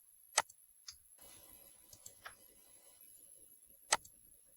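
A computer mouse clicks a few times while working in MS Word: two sharp close clicks early, a couple of softer ticks in the middle and another crisp click near the end, over quiet room hiss.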